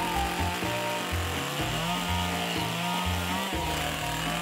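A chainsaw carving wood into troll figures, loud and close, its engine revving up and down in repeated surges as the chain bites into the wood, with sawing and rubbing sounds throughout.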